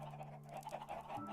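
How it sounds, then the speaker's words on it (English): Chickens in Minecraft give a few soft, quick clucks, faint and close together in a short burst, with a low steady hum underneath. "I can hear the chickens. Yeah, there are some chicken noises, given where we are."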